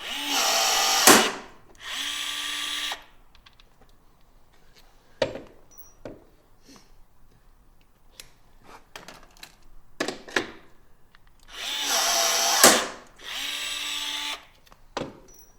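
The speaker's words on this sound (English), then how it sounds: "so we have our 4 rivets on the belly pan. We're going to go ahead and install." A power tool drives rivets into the belly pan of a 2023 Ski-Doo Expedition SE 900 ACE skid plate, several short loud whirring bursts separated by quiet gaps and scattered clicks and knocks.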